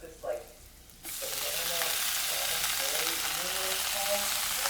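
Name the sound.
sautéing spinach with garlic and onion in pan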